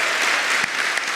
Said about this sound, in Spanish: Dale un fuerte aplauso a Dios esta mañana.